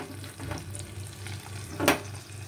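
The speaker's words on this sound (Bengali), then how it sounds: "সেই পেঁয়াজটা আমি এখানে দিয়ে দিলাম। পেঁয়াজটা লাল লাল করে ভেজে তারপরে আমি আদা আর রসুনটা দেব।" Chopped onion fries in a pan for pav bhaji on low heat, a soft, steady sizzle with a brief louder scrape near the end and no talk.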